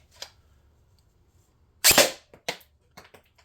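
Replica gun running off an M12 battery adapter fires a few sharp snapping shots, one loud burst followed by a couple of quicker, fainter pops, close by with no speech over them.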